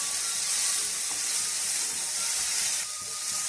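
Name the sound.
beans, carrots, tomato and peas stirred and frying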